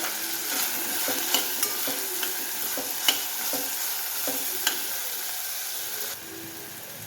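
Chopped tomato and onion fry in an oiled pan, giving a steady sizzle broken by regular clicks and scrapes of a spoon stirring, close and fairly loud, with no talk.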